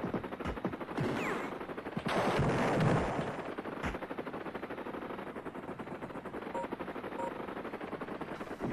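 In Desert Strike on the Amiga, a helicopter fires steadily on a radar installation, a fast rattling stream of gunfire broken by a few heavier explosive thumps, loud and continuous with no talking.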